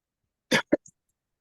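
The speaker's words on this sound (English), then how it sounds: "Excuse my cold, which I've been coughing through this whole thing." A single sharp cough, followed by a smaller catch of breath, close and clear against silence.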